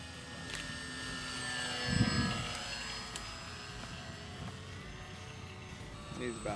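A Dynam Scout Cessna 182 electric RC airplane flies at about half throttle in strong wind, its motor a thin, steady whine with tonal hum under gusty wind noise and a voice talking.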